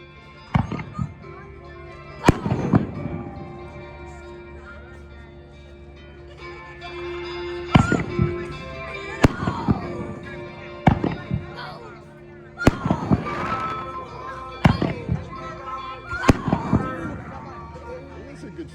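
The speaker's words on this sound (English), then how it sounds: "These are good fireworks." Fireworks burst in repeated loud booms and crackling volleys at Havasu 95 Speedway during an opening-night show, with several sharp detonations spaced through the sequence and people talking and reacting between blasts.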